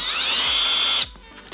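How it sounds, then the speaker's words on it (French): A modified power drill whirs loudly at high speed for about a second, then stops abruptly, followed by a few faint clicks and handling sounds. "On prend une superbe perceuse"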